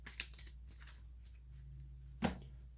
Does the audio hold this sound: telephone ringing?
no